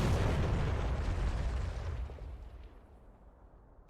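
A 9M3 missile explodes against an aircraft in a flight simulator, a loud broad blast whose rumble decays steadily over several seconds into quiet.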